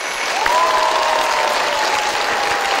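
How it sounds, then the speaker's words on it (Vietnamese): Studio audience applause on the Vietnamese game show Đuổi hình bắt chữ: loud, dense, steady clapping that fills the whole stretch, with a faint sustained tone running beneath it. "Trong tiếng vỗ tay giòn giã này"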